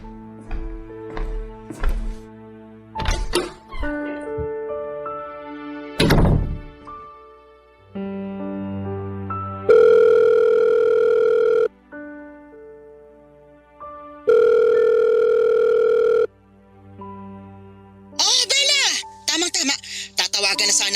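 A phone call's ringback tone plays as two long, steady electronic buzzes separated by a pause. Musical tones and clicks surround it, fairly loud and close.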